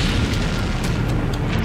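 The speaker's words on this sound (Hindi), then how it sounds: "इसके बाद यह टैंक चलता रहा और फिर ऐसा धमाका।" A tank hit by a Lancet drone explodes, producing a continuous heavy roaring rumble with crackling bursts, loud and unbroken throughout.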